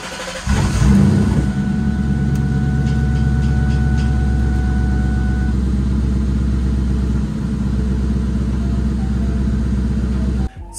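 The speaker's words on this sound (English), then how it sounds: "let's start up the car" A manual-transmission car cranks and starts right after a DIY oil change, its engine catching loudly and then idling steadily near at hand for several seconds before shutting off.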